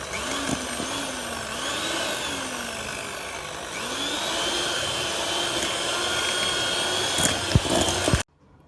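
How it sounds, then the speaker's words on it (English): An electric mixer beating butter and sugar for a date cake, a continuous whirring motor hum with small pitch wobbles as the beaters work, steady and close, then cutting off abruptly near the end. "Beat well these two ingredients, butter and sugar."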